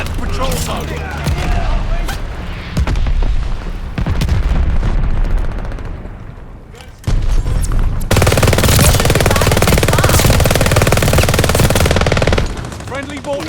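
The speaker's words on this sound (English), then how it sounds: "Friendly mortar fire coming." Mass Effect Legendary Edition combat with heavy booms and sustained automatic fire, loud and dense, swelling into a continuous roar of explosions partway through.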